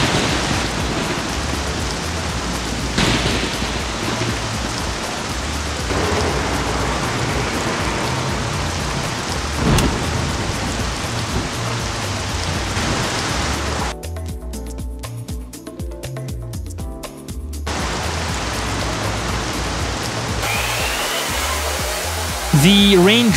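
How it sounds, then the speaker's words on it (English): Heavy rain hisses steadily in a GZDoom game with a low rumble of thunder underneath, the downpour broad and constant, briefly cut by a sparse clicking passage before the wash of rain returns. "there is a chance for thunderstorms to happen while it is raining"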